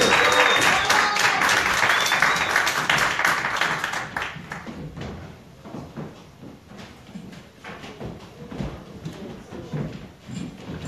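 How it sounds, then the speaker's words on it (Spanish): An audience gives loud, sustained applause welcoming a band onto stage, with the clapping gradually thinning and fading into scattered claps and crowd noise. "vamos a recibir con un fuerte aplauso a... ¡La Nueva Escuadra!"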